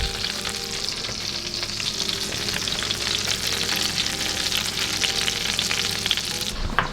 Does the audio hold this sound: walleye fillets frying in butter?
yes